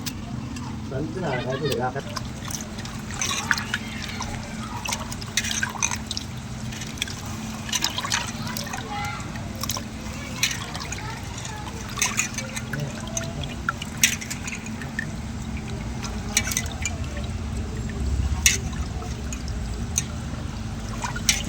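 Clams are washed by hand in a bowl of water, with steady sloshing, trickling and dripping throughout and a voice talking over the washing.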